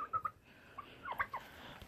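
A turkey gobbles on a farm near a chicken house: quiet, rapid warbling bursts in short clusters, faint and somewhat distant over low background noise.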